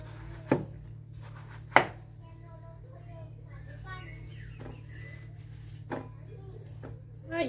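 A sharp knife slices through a small, very red watermelon, giving two distinct crisp chopping thuds early on followed by lighter cuts, set against a steady low hum with faint background voices.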